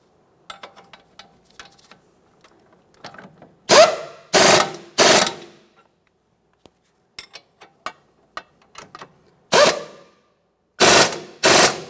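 Ratchet wrench snugging the wheel hub mounting bolts on a 2014-2019 Toyota Corolla during a front wheel bearing and hub replacement, with light clicks building into several loud bursts of rapid ratcheting, close up and without talk.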